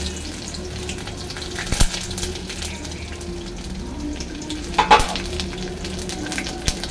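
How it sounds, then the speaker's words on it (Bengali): Garlic tempering sizzles in very hot oil in a kadai, a steady close frying hiss with a few brief clinks and stirring knocks, no talking. "রসুন ফোড়ন"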